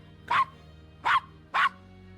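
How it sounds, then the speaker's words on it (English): A dog in the adventure game Gabriel Knight: Sins of the Fathers barks three times in quick succession, sharp and close, with short even gaps between barks and no speech. "Oh, that's the dog."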